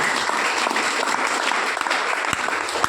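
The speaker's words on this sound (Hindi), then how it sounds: "अपने लिए एक जोरदार तालियां बजाइए।" An audience at a DXN business meeting gives dense, continuous applause, close and steady from start to finish.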